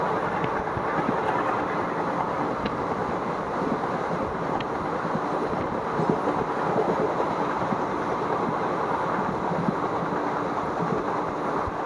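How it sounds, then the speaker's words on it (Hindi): A goods train rolls past near Mathura on the Delhi line, a steady, loud rumble of wagons with no break for the whole stretch and some wind buffeting the microphone. "ये तो गुड्स ट्रेन है।"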